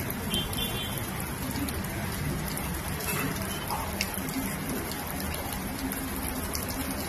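Rain falls steadily onto cement-concrete roads, a dense pattering hiss with occasional sharper drops and a faint passing vehicle, close and continuous.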